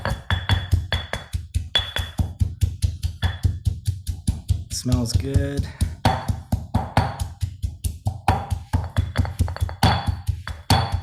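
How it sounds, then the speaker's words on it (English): Steady rhythmic pounding of a pestle in a mortar while making Thai basil (pad gaprow) paste, dull thuds with a brief ringing scrape midway, while a voice speaks briefly over it. "And if you do have a mortar and pestle"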